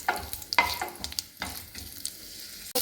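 Something fries in a pan over a low gas flame for an egg tawa pulao, a soft steady sizzle broken by several sharp scrapes and clinks of stirring, close by with no voices.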